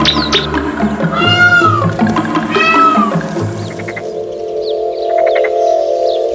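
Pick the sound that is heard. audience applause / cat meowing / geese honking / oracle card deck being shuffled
cat meowing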